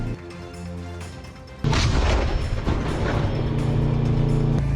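Artillery shelling of Ukrainian posts near Pokrovsk: a sudden heavy blast cuts in and becomes a loud, sustained rumbling roar over the earlier lower background noise.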